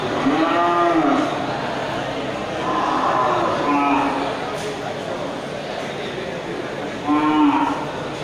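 Aceh and Simmental cattle on a livestock farm low out three times: long, loud, nearby moos spaced a few seconds apart over steady background noise.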